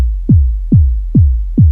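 Four deep emulated 808 kick drum hits from LMMS, evenly spaced, each a punchy pitched-down thump with a long booming tail, clean and loud with no artifacts.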